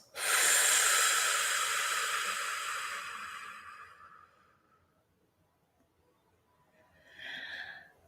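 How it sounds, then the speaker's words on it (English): A slow, deep breath drawn in and held as part of a guided breathing exercise, a long airy rush that fades over several seconds, then a shorter soft exhale near the end, alone without talk. "Breathe in for 4. Hold it for 4. And then breathe it out for 8."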